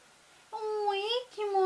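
A pet cat meows twice indoors, two drawn-out tonal calls close by, the second following a brief pause, with no one talking over them.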